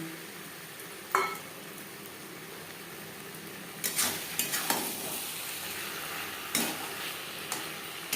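Potatoes tumble into a pan of frying chicken over a high flame, with a steady sizzle under scattered clatters and scrapes of stirring, fairly quiet overall.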